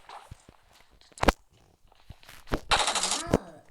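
Machine gun fire in the PUBG Mobile video game: a few sharp isolated shots, then a rapid sustained burst near the end, mixed with soft footsteps and other game sounds.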